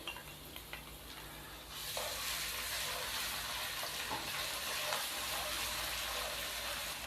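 A steady sizzle rises in a hot pan as ginger garlic paste fries, with occasional stirring scrapes, close and continuous.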